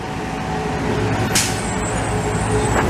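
Heavy truck passing on Boulevard Gouin in Montreal's Cartierville district, a steady low engine rumble with a brief hiss of air brakes, close and continuous, with no talking.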